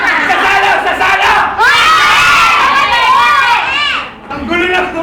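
Children shout and scream excitedly during a game at home, loud and close, a crowd of overlapping high voices with brief dips around the middle and near the end.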